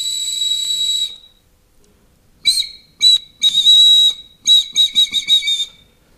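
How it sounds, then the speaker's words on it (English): A small whistle carved from animal bone, one of a large collection, blown in clear high-pitched tones: one long note, a pause, then a series of short and sustained blasts ending in quick staccato toots, close and loud with no talk. "Here we have all kinds of flutes. Yeah, they are whistles."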